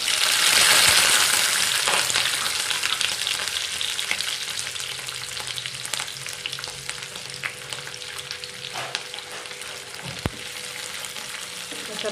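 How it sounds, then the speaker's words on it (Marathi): Onion and tomato fried in hot oil in a kadhai, giving a loud, dense crackling sizzle that is strongest at first and settles slightly, punctuated by occasional sharp clicks of a stirring spoon. "इथे मी कढईमध्ये तेल तापत ठेवलेलं आहे आणि त्यामध्ये आपण कांदा आणि टोमॅटो आता परतून घेणार आहोत।"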